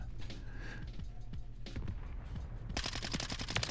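Minibak SMG fire with overpressured ammo in Modern Warfare 3, short sharp bursts near and loud, ending in a dense rapid volley.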